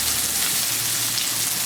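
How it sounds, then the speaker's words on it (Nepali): Egg frying in a pan for Nepali-style chow chow soup, a steady close sizzle with soft crackle running evenly throughout, no voices. "यसमै अन्डा फ्राई गर्छु"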